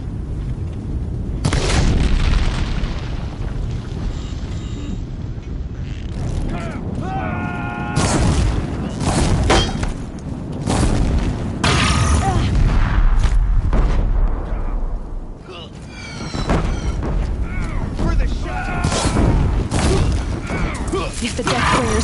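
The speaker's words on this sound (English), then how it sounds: "If the Deathbringers keep firing, this bridge will go." Machine gunfire and heavy explosions from Deathbringer machines in the Horizon Zero Dawn video game, a dense run of repeated booms and blasts, loud and close, with voices talking over the battle throughout.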